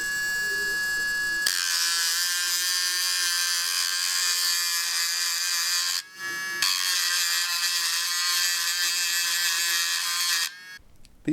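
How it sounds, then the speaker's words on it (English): A Dremel rotary tool grinds the coating off an RE14 motor with a high, steady whine, running loud for several seconds, stopping briefly, then running again before shutting off. "Enter the Dremel tool."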